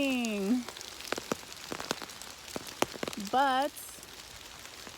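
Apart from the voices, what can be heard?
rain falling in a forest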